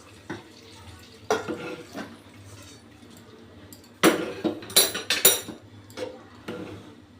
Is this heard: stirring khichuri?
yes